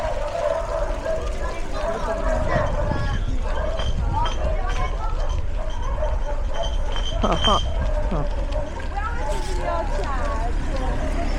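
Dogs bark in short bursts amid a busy nighttime outdoor din of chatter and traffic on La Digue island, fairly close and loud.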